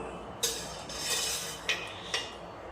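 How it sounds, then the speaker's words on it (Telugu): A kadai pan is set down on the stove with a few sharp metallic clanks and scrapes, three distinct knocks spaced over a couple of seconds, close and fairly clear with no talking. "ముందుగా ఒక బాండీ పెట్టుకొని అందులో ఒక 2 స్పూన్స్ ఆయిల్ వేద్దాం."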